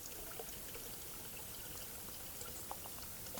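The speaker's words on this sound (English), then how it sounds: "You hear the trickle of water?" Faint, continuous trickling water from a siphon, flowing through a gravity water filter, with a soft, hissy wash and occasional tiny splashes.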